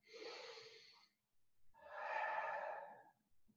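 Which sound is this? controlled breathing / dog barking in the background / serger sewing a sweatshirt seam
controlled breathing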